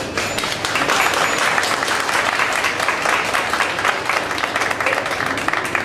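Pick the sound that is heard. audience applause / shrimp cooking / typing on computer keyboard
audience applause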